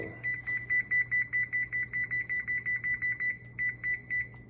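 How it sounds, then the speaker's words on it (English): A kitchen timer being set for a 20-minute oven bake gives a rapid string of short, high, close beeps in an even rhythm, with a brief pause near the end and no talking. "So I'm gonna put a timer on it for 20 minutes."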